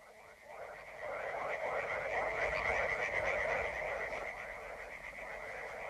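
Frogs in riverside backwaters keep up a loud, continuous croaking chorus for a German radio drama. The many overlapping rattling calls build after the first second and stay thick and near throughout.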